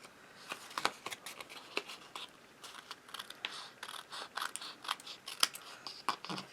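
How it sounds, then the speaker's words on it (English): Scissors snipping through card stock along a card base in a series of short, crisp cuts, close and fairly quiet, with irregular rhythm and no talking. "Just cut it right along the card base."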